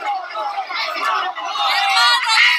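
A mob in Venezuela cursing and cheering as soldiers give themselves up: a dense, continuous wash of crowd voices and babble, steady and fairly loud throughout.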